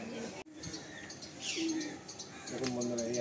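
Pigeons in a loft give soft low cooing and brief chirps close by, while someone talks over them and a faint hum lies beneath.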